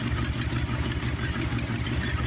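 A hand-built Chevy rat rod pickup with a 1941 Chevy cab, 4-inch tube frame and a slightly bored 350 crate V8 with an oil cooler idles nearby in a steady, even, throbbing rumble.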